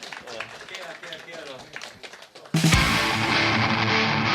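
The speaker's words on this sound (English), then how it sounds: "Yeah, applause." A voice speaks over a quiet room, then a sudden burst of loud, sustained applause erupts from a live audience at a Grave Miasma and Vulture show at the Til Dovre faller festival.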